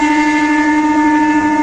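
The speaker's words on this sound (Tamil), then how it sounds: "பின்னாடியே பாத்தீங்கன்னா ஐஆர்சிடிசி தேஜஸ் எக்ஸ்பிரஸ் வருதுங்க." IRCTC Tejas Express, the private Ahmedabad–Mumbai train, sounds a sustained, steady horn tone close by, loud and unbroken with no talk.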